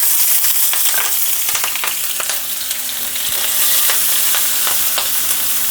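Green chilies dropped into hot oil with cumin and asafoetida while tempering for pakoda, a loud steady sizzle with scattered crackles and pops, close up and without speech.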